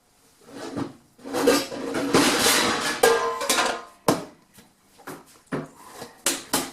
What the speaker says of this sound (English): break this down and get out the pans